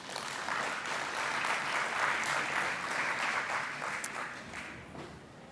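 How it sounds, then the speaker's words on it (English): Conference audience applauding the arrival of panelists at the Internet Governance Forum 2025 workshop room, a steady wash of many hands clapping that swells and then fades, heard from within the hall. "a warm round of applause and welcome to our panelists"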